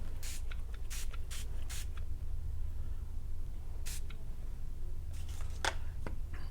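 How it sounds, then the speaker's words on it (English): Short, quiet hissing bursts from an aerosol can of clear spray repeat irregularly, several in quick succession, then a pause, then a few more. "So I'm going to take this clear spray"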